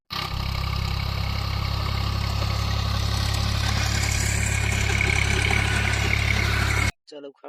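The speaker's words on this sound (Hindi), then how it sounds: "बगल वाले खेत में पानी चल रहा है और खेत भी जोता रहा है ट्रैक्टर से" A tractor ploughs a flooded rice paddy nearby, its engine a steady low rumbling drone that continues for several seconds and then cuts off abruptly, with someone speaking over it.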